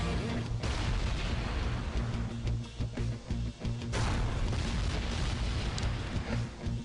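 Booming, cannon-like blasts and heavy gunfire from a boss fight against Komato General Tor in the game Iji, dense and loud with repeated explosive impacts throughout.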